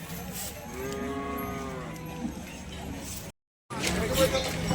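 A cow moos loudly in a long, drawn-out call amid the hubbub of a busy crowd at the Sangola cattle market, with people talking close by.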